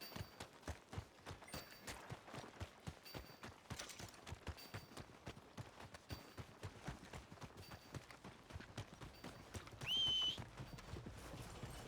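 Horse hooves clip-clop in steady rhythm in the video game Red Dead Redemption 2, close and continuous, with a brief whistle-like tone partway through.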